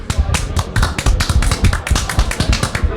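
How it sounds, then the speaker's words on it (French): Dense, irregular clapping from a concert audience at the 2019 iNOUïS evening, continuous and fairly loud, with faint voices mixed underneath. "Merci au public d'à côté qui applaudit pour nous."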